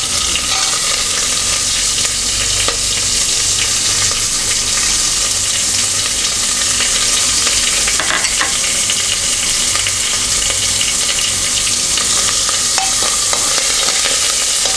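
Onions and green chillies fry loudly in a pan for mealmaker tomato curry, giving a dense, continuous sizzle with a few sharp crackles and clinks.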